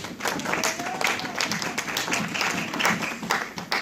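Congregation clapping and cheering during a French-language church sermon, a steady crowd applause with scattered claps, moderately loud, with voices mixed in.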